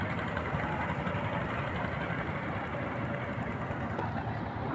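A boat engine idles with a steady low rumble, constant and fairly close, at a crowded boat landing near the white stone hills of Meghalaya.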